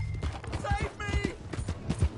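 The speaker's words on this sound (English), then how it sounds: "Hey, that's my horse!" Horse hooves clip-clop in Red Dead Redemption 2, a quick close run of hoofbeats mixed with game character voices and a brief whinny.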